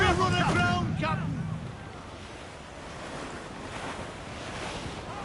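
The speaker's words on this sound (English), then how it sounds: "The wind is picking up nasty." Wind and waves at sea in Assassin's Creed Black Flag: a voice speaks over a low rushing swell at first, then a steady wash of wind and surf carries on alone, rising slightly toward the end.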